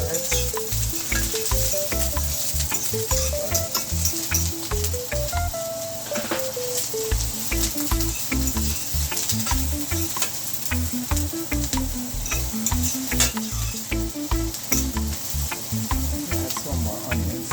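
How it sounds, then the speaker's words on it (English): Purple and white onions with garlic fry in a pan for ackee and saltfish, a loud constant sizzle and crackle running throughout beneath rhythmic background music. "Guys, I'm gonna add my onions and my garlic inside."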